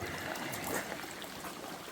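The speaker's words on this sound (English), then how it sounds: "A lot of water in here now." A small stream on the Appalachian Trail in Pennsylvania trickles and burbles steadily nearby, a soft, quiet flow of water with no voices.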